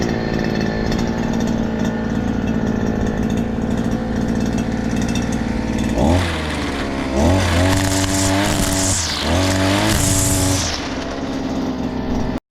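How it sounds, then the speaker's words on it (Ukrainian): A gas-powered brush cutter fitted with a trimmer spool runs at a steady, buzzing idle, then revs up in repeated loud surges as it starts mowing grass close by. "О, нормальок починаємо косити."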